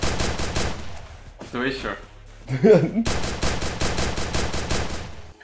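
Rapid bursts of automatic gunfire in the mobile shooter Free Fire MAX, loud and close, breaking off for a moment while someone speaks briefly, then resuming as a sustained volley.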